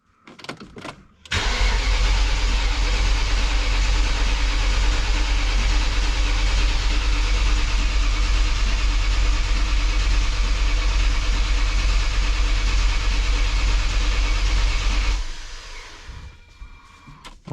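A BMW E39 M5 wagon's engine, freshly rebuilt with a new Vanos unit, cranks and fires, then roars steadily and loudly for about fourteen seconds before shutting off abruptly.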